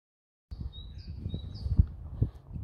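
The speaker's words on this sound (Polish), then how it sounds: "Ptaszki śpiewają" Faint, thin birdsong whistles and chirps in a forest on a walk near Olkusz, with soft low rustling and footfall-like thumps underneath.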